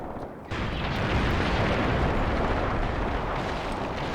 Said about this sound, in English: these tanks, they are shooting at the church